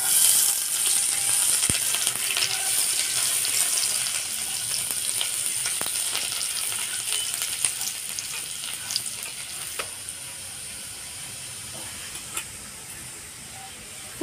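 Chopped garlic fries in hot ghee and oil in a wok with cumin seeds for restaurant-style palak paneer, giving a steady loud sizzle with occasional stirring clicks and no talk.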